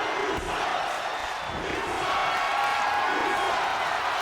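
Crowd noise in the WWE 2K26 wrestling video game, a steady roar of chanting and jeering spectators that fills the arena throughout, loud and continuous with no clear single voices.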